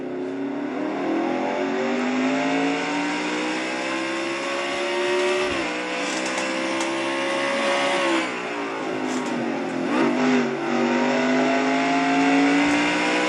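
A race car laps the Mid-Ohio road course during a Nationwide Series race, heard on board as a loud, sustained engine whine that rises and falls sharply through gear changes and braking, with no voices.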